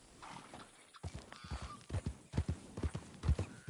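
A horse in Red Dead Redemption 2 walks with clear, rhythmic clip-clop hoofbeats that grow louder and closer, a short whinny-like sound near the start over a faint background hum.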